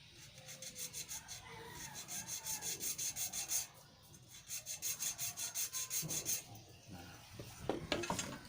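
Rhythmic back-and-forth rasping of hand sanding with sandpaper, steady strokes close up, with a brief pause midway and no voices.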